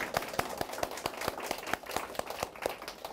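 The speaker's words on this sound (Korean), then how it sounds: "박수로 시작해보죠" A small audience claps at the opening of a Chinese grammar lecture, with a sparse, fairly quiet run of distinct individual claps at a steady rhythm.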